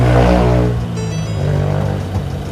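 A 2021 Ford Ranger XL+ four-door manual pickup fires up, the starter's brief crank giving way to a loud, rough engine catch and then a steady idle rumble up close.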